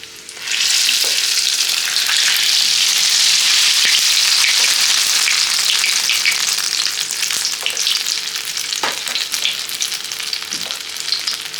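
Mughlai paratha deep-frying in hot oil gives a loud, steady crackling sizzle that runs almost without a break, with a few soft knocks and scrapes from turning it in the pan.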